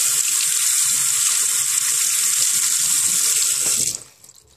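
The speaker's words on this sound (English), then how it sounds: "I'm trying to use some water here to clean it." Tap water runs steadily while rinsing a part of a Samsung CLX-3175FNK color laser printer during a toner waste repair, a close, loud splashing hiss that cuts off abruptly near the end.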